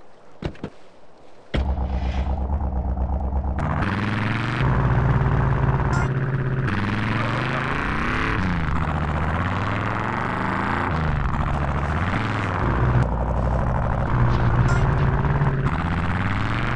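Monster truck engine in GTA San Andreas, a steady loud rumble that runs continuously with rising and falling revs after a short quiet start.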